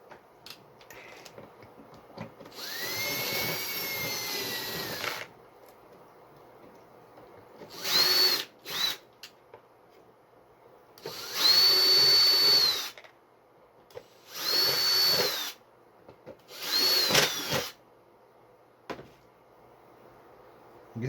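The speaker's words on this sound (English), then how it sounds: "I need to widen that with a drill." Power drill widening a hole during construction of a replacement habitat module, running in several bursts: one long run, then shorter whirring pulses with pauses between, loud and close with no talking.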